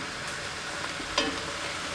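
Minestrone vegetables cook down in a pot, giving a steady close sizzle and frying hiss with a brief clink of stirring partway through; no voices.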